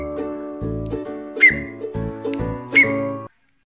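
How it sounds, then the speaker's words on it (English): A loud, sustained whistle plays a melody of short and held notes with two sharp rising chirps, alone and close, ending abruptly. "how to do a loud fingerless whistle"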